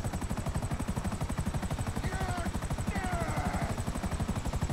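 A helicopter in the video game GTA Online flies with a steady, loud rotor chop that pulses evenly throughout, backed by a constant high engine whine.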